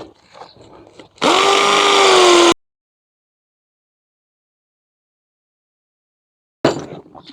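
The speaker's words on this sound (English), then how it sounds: "now you just follow it up with a bigger drill bit like this" A power drill with a larger bit bores a hole for a garden window mirror, a loud whining burst of just over a second, followed by silence and soft handling noises.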